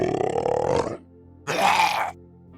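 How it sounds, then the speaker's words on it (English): Custom idle grunt for a monster enemy in a game made in Unreal, two guttural growling bursts separated by a short pause, close and clear. "I made a custom idle sound for the two types of the enemies"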